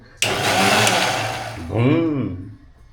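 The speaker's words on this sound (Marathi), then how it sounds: "मी आता तो मिक्सर लावतोय" A kitchen mixer grinder starts abruptly and whirs loudly for a couple of seconds, its pitch sliding as the motor shifts and winds down.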